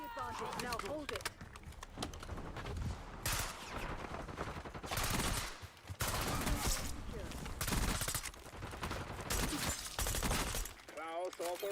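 Gunfire in Black Ops 6 multiplayer: loud, repeated bursts of rapid shots come and go over about twelve seconds, with game voices and other action sounds mixed in.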